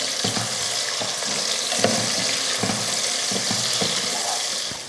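Sliced onion with green chillies, cardamom and cinnamon sautéing in hot oil for a veg biryani gives a steady, close sizzle and frying hiss, with a few soft stirring clicks and no voices.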